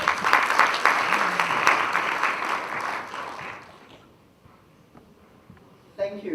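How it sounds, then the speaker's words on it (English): Applause from a university launch audience fills the first few seconds loudly, then fades away, and a voice begins speaking near the end. "Let's give him a round of applause."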